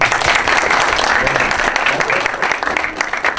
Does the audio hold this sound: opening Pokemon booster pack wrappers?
no